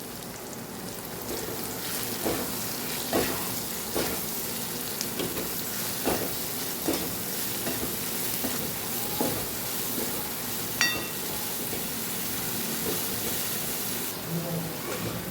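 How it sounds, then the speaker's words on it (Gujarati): Okra is stirred with spice masala in a pan for a Kathiyawadi dish, soft sizzling under regular spatula scrapes and knocks across the stretch, fairly quiet and up close. "હવે આ મસાલાને આપણે ભીંડા સાથે સરસ મિક્સ કરી લઈશું।"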